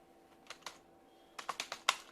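Light clicks from someone typing on a computer keyboard, a couple of isolated keystrokes followed by a quick burst of about six taps, close and quiet with no talking.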